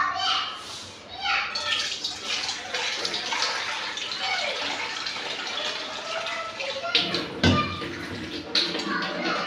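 Water splashes and gushes into a cooking pot of aloo chicken shorba in a home kitchen, pouring in bursts with one sharp clank, while children chatter and play nearby.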